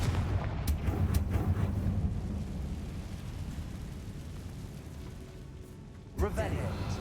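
Blasts from the Confringo fire spell in the Hogwarts Legacy video game come as a steady rumbling barrage, loud and dense, with another sharp burst near the end while a voice talks.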